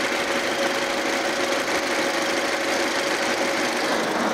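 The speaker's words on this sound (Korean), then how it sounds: "자, 엔진 소리 들어볼게요." A 2008 Audi A6 2.0 TFSI idles steadily with the bonnet open, giving a continuous close mechanical hum with a ticking, sewing-machine-like clatter and a faint whine, constant in level and with no talk over it.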